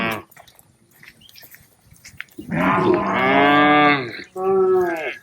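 A Kapila cow at a cow shelter moos loudly for her calf, one long rising call followed by a shorter second one, close and clear over a quiet background.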